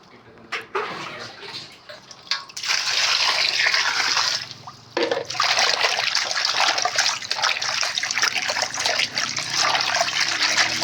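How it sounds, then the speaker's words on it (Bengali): Water runs and splashes as jhul leaves are washed and rubbed by hand, starting with faint drips and handling, then a strong continuous gush close by. "এখন ধুয়ে নিচ্ছি পাতাগুলিকে ভালোভাবে,"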